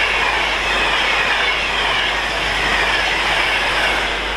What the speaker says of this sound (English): Quick Pendolino coming through as well.